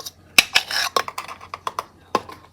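Utensils scrape and clink against the sides of a mixing bowl holding muffin batter with baking soda and salt, close by in a short burst of uneven strokes and taps.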